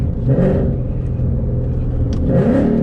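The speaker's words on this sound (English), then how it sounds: "I'll rev it to 7, all the way to 7K" Car engine with an MT82 manual transmission revving hard toward 7000 rpm, a loud, close, rising roar with a whirring edge that swells and eases over a few seconds, with no speech.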